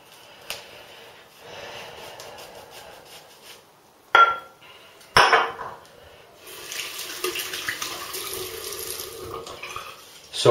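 Wilkinson Sword Classic safety razor rinsed under a running tap, with water splashing and flowing in bursts, a couple of sharp knocks against the sink, then a steadier stream toward the end.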